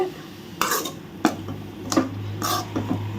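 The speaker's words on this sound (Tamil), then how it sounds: "ஸோ இப்போ இது எல்லாத்தையுமே நல்லா மிக்ஸ் பண்ணிடுவோம்" Spatula scraping and clinking in a pan as cabbage poriyal is stirred and mixed, a few distinct metallic scrapes and taps spaced out over a steady low hum, fairly close with no talking.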